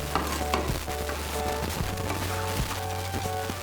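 Water is stirred into semolina (suji) with winter vegetables in a hot pan, giving a continuous wet sizzle with scraping strokes of the spoon at a close, moderate level.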